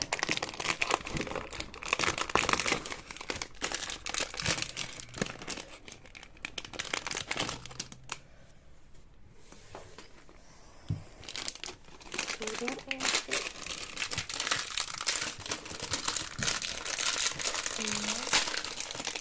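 A plastic wrapper from a LEGO Star Wars advent calendar crinkles and rustles nearby in bursts, quieting for a moment midway before the crackling handling resumes, with a person talking over it.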